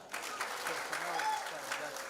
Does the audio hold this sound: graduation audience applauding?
yes